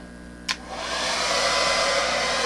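A hair dryer blowing wet paint across a surface clicks on and then runs with a loud, steady airy roar, close to the listener.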